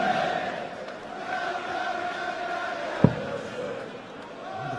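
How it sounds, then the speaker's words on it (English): A darts arena crowd at a Premier League match between Gary Anderson and Dave Chisnall gives a steady murmuring roar with a brief sharp thud, under a commentator's voice. "The crowd in Anderson's corner."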